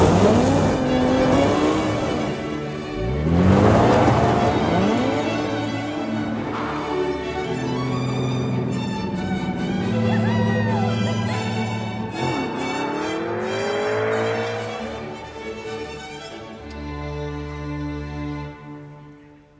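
A 495 hp sports car that reaches 100 km/h in 4.3 seconds revs and accelerates hard, its engine note climbing through several gear changes and swelling loud, with a brief tire squeal and no talking.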